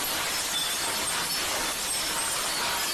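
Glass shattering and a flood of marbles spilling down, heard in a video game, as a dense, loud, unbroken crash and clatter that keeps going for the whole stretch with no voices.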